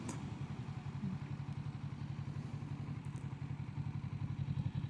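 A Kawasaki Ninja 650 twin-cylinder motorcycle pulling in second gear, a fairly quiet steady engine drone with rhythmic low pulsing and some clatter, no talking heard.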